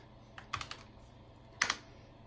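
Keys are pressed on an Apple IIe computer keyboard, close by: a quick cluster of three or four clicky taps, a pause, then another short burst of two or three presses.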